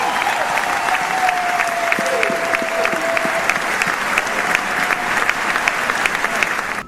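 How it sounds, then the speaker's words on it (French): A crowd in Libreville claps loudly and continuously for a Monseigneur for several seconds, a dense steady applause with a few faint tones underneath. "Je voudrais vous demander de faire un fort applaudissement pour Monseigneur."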